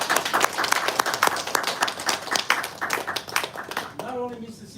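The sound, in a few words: audience applause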